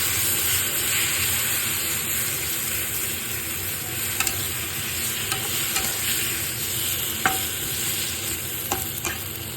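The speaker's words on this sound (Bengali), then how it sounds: "সর্ষার কাঁচা লঙ্কা বাটা আছে এখানে, ঢেলে দিলাম। একটু নেড়ে চেড়ে নেব।" Mustard and green chilli paste is stirred in a hot frying pan for a mustard fish dish, giving a steady, close hiss of frying with occasional sharp scrapes and taps of the spatula, and no voices.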